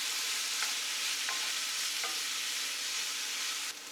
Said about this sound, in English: I just want to stir this up for a few minutes,